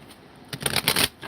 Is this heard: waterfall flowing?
no